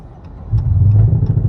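A 2018 Dodge Charger R/T engine, just rebuilt, turns over and catches, settling into a rough, loud low rumble that keeps running.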